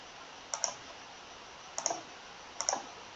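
A computer mouse gives three sharp clicks, each a quick double tap, evenly spaced and close up against a quiet background.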